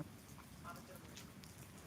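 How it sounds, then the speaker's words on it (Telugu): Faint, soft drizzle patters quietly and evenly, a low continuous hiss with no other clear sounds. "తుంపిళ్ళ వర్షం అయితే కురుస్తుంది"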